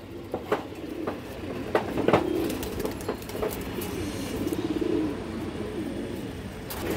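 A domestic pigeon, a red-eyed hen with black tail and wings, coos softly at close range in a few short repeated bursts amid low background noise.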